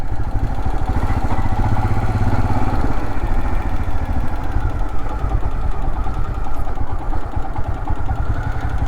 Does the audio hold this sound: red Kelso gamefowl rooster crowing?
no